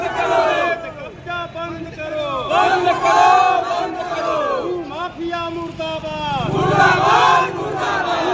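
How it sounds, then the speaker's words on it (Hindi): Villagers from Jafarpur village chant protest slogans outside a district magistrate's office, a loud crowd calling out in steady rhythmic bursts throughout. "ग्रामीणों ने जमकर नारेबाजी की"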